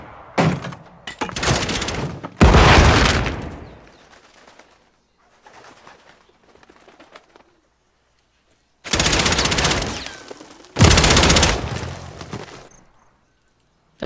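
Lever-action shotgun fire in a video game match, booming out in four loud, reverberant blasts: two close together early, then a long quiet gap, then two more near the end.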